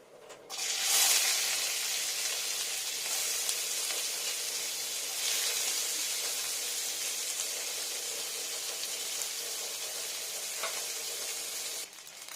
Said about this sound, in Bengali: সর্ষের তেলটা খুব সুন্দর গরম হয়ে গেছে এবার এখানে আমি দিয়ে নেবো পেঁয়াজ কুচানো